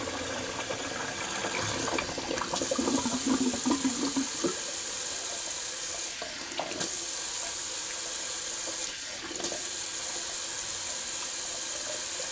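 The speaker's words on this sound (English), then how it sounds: "Do a little cold water rinse." A bathroom sink faucet runs steadily for a cold water face rinse during a wet shave, with brief splashes and small shifts in the flow.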